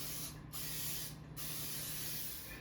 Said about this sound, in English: Spray it with cooking spray.